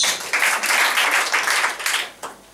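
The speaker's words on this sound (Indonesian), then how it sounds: "Setuju, tepuk tangan bagi Yesus." A church congregation claps in uneven bursts, loud swells that rise and fade, with a brief final spatter of hands at the end.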